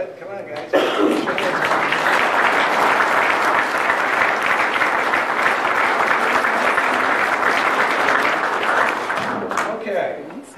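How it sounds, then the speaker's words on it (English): Sustained applause from a seated audience at a community hockey meeting, loud and steady for about nine seconds, with a few scattered cheers before it tapers off. "I'd like to give you a round of applause"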